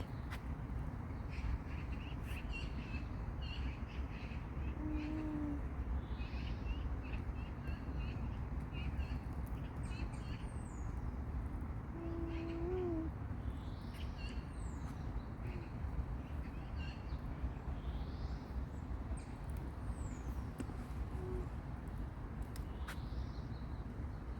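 An unidentified bird calls several times in a city park in Dnipro, short chirping notes standing out faintly over constant outdoor background noise and distant murmur.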